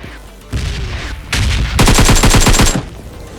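Gunfire in a battle royale shooter game, a loud rapid burst of automatic shots after heavier booming blasts, close and dominant, with no talking.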